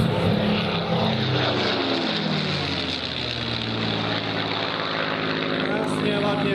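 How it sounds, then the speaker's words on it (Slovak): Supermarine Spitfire flying aerobatics overhead at an airshow, its propeller engine droning loud and continuous throughout, with a rising and falling pitch as it passes. "Krásne ladne prevedené prvky vysokej pilotáže s lietadlom Spitfire tuto nad našimi hlavami."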